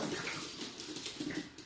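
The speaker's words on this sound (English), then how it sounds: "you hear my puppies playing now" Puppies playing indoors in the morning, with soft whimpers and small yips scattered over a steady low household background, fairly quiet and close.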